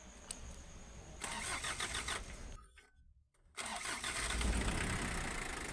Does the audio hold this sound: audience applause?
no